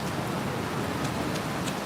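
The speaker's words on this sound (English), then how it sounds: "Now it is a rainy day here, but that view is still fantastic." Rain falls steadily at Disney's Contemporary Resort overlooking Magic Kingdom, a soft even patter that fills the short stretch, with no talk.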